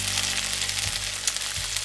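Floured meat and minced garlic sizzle steadily in a pot for Hungarian goulash, a close, continuous hiss with a couple of low knocks as pieces are turned with tongs.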